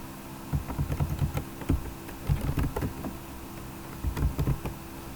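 Bursts of quick, light key clicks from a computer keyboard, typed close by in short uneven runs with pauses between, in a quiet room.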